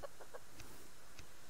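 Chickens cluck in the survival video game Subsistence: a few quick, faint clucks in the first moments, followed by a couple of softer scratchy calls against a quiet background.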